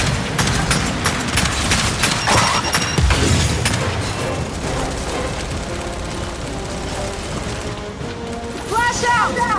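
Gears of War 5 video game combat with heavy gunfire against a carrier, sounding like rapid bursts and booming impacts layered with mechanical clatter, loud and continuous before it thins near the end.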